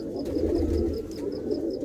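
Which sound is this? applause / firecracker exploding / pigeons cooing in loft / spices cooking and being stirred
pigeons cooing in loft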